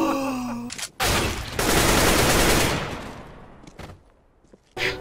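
CS:GO gunfire in a match, a burst of rapid automatic shots at close range, loud and dense for a couple of seconds, then trailing away into quieter in-game noise with a sharp sound at the end.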